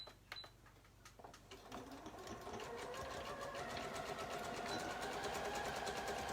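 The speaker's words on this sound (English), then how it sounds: "I'm gonna overlap my elastic and then close it up with a zigzag stitch." A sewing machine runs a zigzag stitch through overlapped elastic, starting with a few slow clicks, then speeding into a steady, loud, rapid mechanical chatter.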